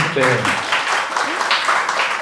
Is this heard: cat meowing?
no